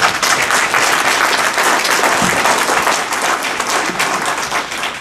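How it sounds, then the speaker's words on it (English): An audience at a public meeting bursts into sustained clapping and applause, a dense, even wash of many hands that continues throughout with no talking. "I would appreciate it if we refrain from clapping and applauding"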